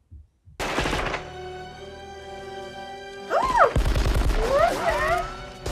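Gunfire from the action film Die Hard, a loud machine-gun burst followed by further rattling shots and booms, with a viewer briefly exclaiming over it.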